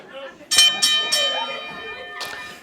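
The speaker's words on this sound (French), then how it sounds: "Et son de la cloche." Three bell strikes ring out at a wrestling match as it opens, spaced about a third of a second apart, clear and fairly loud over crowd noise and an announcer's voice, with one more strike following a moment later.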